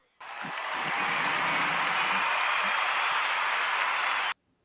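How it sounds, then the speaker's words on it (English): A steady, dense wash of clapping, like a crowd applause effect, starts abruptly and cuts off sharply after about four seconds on a football chat show. "Let me give you a very good clap"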